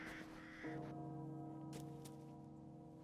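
A crow in the video game Resident Evil Village gives a few harsh caws over an eerie ambient drone, with a low hum underneath and sharp bursts later.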